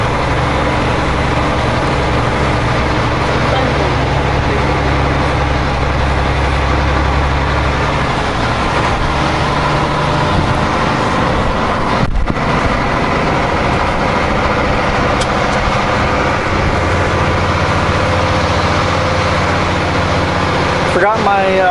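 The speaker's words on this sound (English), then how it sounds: "Spinning the tires a little bit, I've got the diff lock on. Very steep little road." A truck with the diff lock engaged grinds up a very steep little road, its heavy engine droning steadily and loudly throughout while the tires spin a little, with no talk over it.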